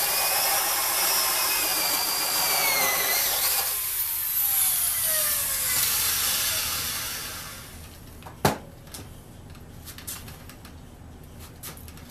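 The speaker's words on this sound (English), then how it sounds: "That's a lot of power on that drill." A powerful electric drill runs loudly and steadily with a high whine, then cuts off, leaving quieter handling noises and a sharp knock.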